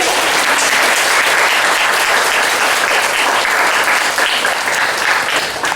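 An audience at a book talk in a bookstore applauds loudly and continuously, a dense, even wash of clapping from start to finish.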